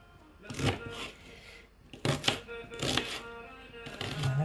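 A knife chops vegetables for a summer couscous salad in uneven clusters of quick, close taps on a board, while a voice talks quietly over the cutting.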